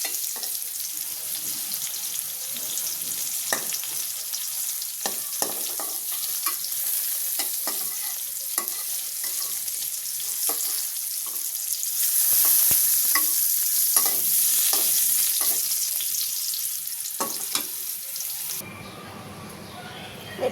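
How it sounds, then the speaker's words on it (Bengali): Potatoes and pointed gourd frying in a wok make a loud, continuous sizzle, broken by repeated stirring scrapes and knocks, before the sound drops near the end. "তো আমার আলু পটল ভাজা প্রায় দিচ্ছে সেগুলো আমি তুলে নিব"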